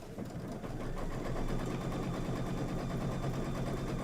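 A sewing machine runs steadily, tacking down background fabric on a quilted table topper, its fast even stitching hum filling the span at moderate level with no talking.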